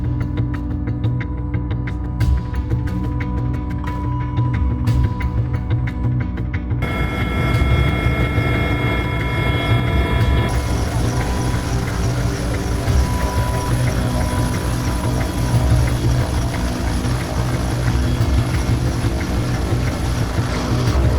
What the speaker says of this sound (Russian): в третий раз я выпрыгиваю из вертолета под шум винтов